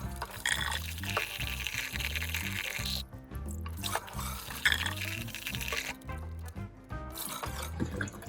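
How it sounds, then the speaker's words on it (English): Fresh dandelion flowers are rinsed under running tap water for frying, giving an uneven splashing and trickling stream with brief breaks and shifts as the flowers are moved about, close by and without speech. "now what we want to do is rinse these off really well"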